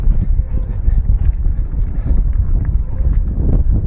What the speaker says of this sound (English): Actually quite windy up here